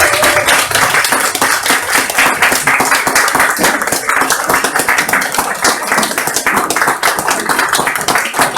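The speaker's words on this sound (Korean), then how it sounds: "우리 박수로 한 번 더 주시고요" Loud, rhythmic clapping from a church audience at an autumn gospel praise concert, dense regular claps in time with the beat continuing steadily for several seconds.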